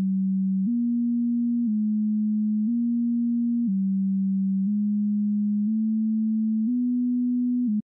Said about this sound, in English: the frequency of the sine wave changes over time